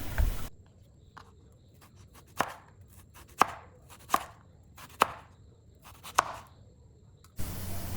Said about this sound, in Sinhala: හීන් තීරු වලට කපා ගන්නවා නම් ගොඩක් හොඳයි.